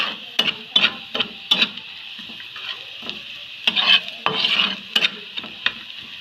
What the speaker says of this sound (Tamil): வாசனைக்கு 2 ஏலக்காயும் பட்டையும் பிரியாணிலையும் சேர்த்துக்கொள்கிறோம்.